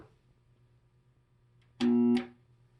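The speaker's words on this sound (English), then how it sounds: "Okay, I have power, but I hear a humming noise. Usually that means there's something caught in the garbage disposal." A jammed sink-mounted garbage disposal gives a low, steady electrical hum, broken near the end by a short, loud, harsh tonal drone lasting about half a second before it drops back to the quiet hum.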